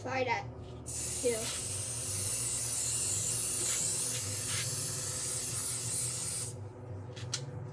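Trim Shine spray hissing steadily onto a boat's windshield wiper, a long continuous close spray lasting several seconds with a low fan hum beneath and brief pauses at the start and end.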